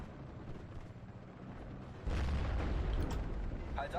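A Flak 36 anti-aircraft gun fires in the Normandy 44 war strategy game: a sudden heavy boom breaks a quiet, rumbling battlefield bed midway through and is followed by a sustained roar with faint crackles.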